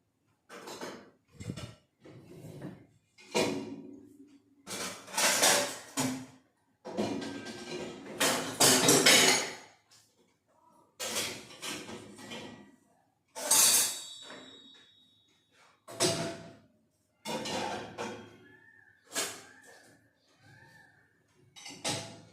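Dishes and plastic containers being loaded into a dishwasher, with repeated close clinks, clatters and knocks coming in irregular bursts, then brief quieter pauses with someone talking.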